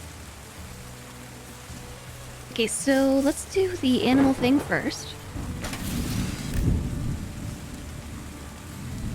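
Rain falls steadily and thunder rumbles in Terra Nil as a restored landscape fills with water, a constant wash with low rumbling beneath, while a person talks over part of it.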